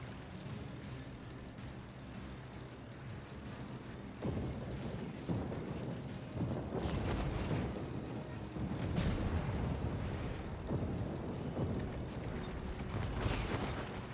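Video game battle gunfire in a live-streamed session: dense rumbling bursts of shots and booming impacts build up and continue steadily over a low mechanical din, loud and sustained with no voice on top.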